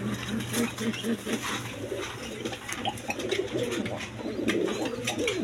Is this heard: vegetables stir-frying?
no